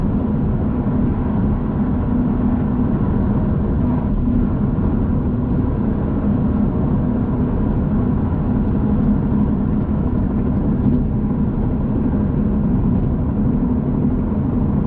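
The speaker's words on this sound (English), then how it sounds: "This old concrete road surface is noisy and bumpy, especially in a car like this with firm suspension." A car with firm suspension drives along an old concrete dual-carriageway, giving a constant, loud low rumble of tyre and road noise inside the cabin that never lets up.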